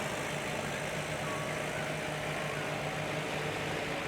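Allis-Chalmers D10 and D12 tractors idle side by side at a steam show, a steady low engine rumble with constant mechanical hum, moderately close and unbroken.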